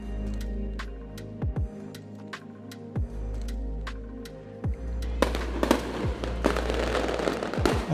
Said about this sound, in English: Did you hear the fireworks?